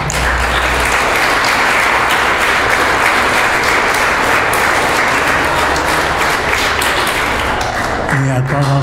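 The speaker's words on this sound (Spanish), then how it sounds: "Ahora un aplauso a sus papás" A church congregation at a quinceañera Mass bursts into sustained, loud applause for the girl's parents, steady clapping filling the room for several seconds before fading as a voice begins to speak.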